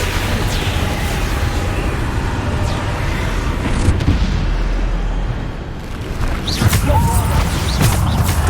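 A Bombarda spell explosion in Hogwarts Legacy, heard as a loud, sustained roaring crash with crackling debris, dipping briefly, then a fresh burst of rumble.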